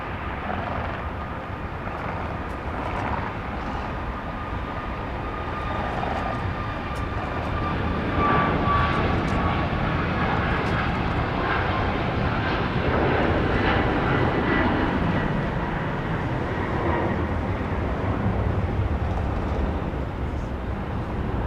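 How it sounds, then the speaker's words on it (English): Boeing 737 MAX 8 jet departing on the runway at Dallas Love Field, a loud, sustained engine roar that builds and holds for over twenty seconds with wind rumble, heard from outdoors and no talking. "This is flight 1482, a MAX 8, going to Washington National Reagan Airport."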